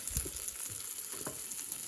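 Homemade pizza fries in a pan with a steady crackling sizzle and a few soft stirring scrapes, close up, no voices.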